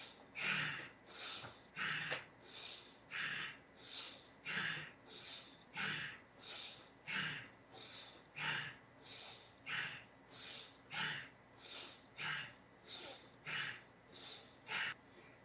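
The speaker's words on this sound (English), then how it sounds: "without giving any pause, we can do the shallow breathing like this." Fast, shallow breathing exercise: quiet, evenly spaced nasal puffs repeat about one and a half times per second in a steady rhythm, close but faint, with no talking.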